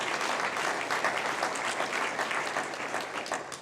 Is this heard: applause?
yes